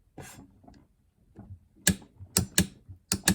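Sharp mechanical clicks from a torque wrench set to 44 foot-pounds while tightening on a 1978 Yamaha DT175E engine, first faint softer taps, then five crisp loud clicks in quick succession near the end.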